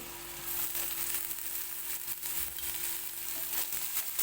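Garlic frying in hot oil for pithla, the spiced gram-flour dish: a steady, close, even sizzle that runs the whole time with no talking.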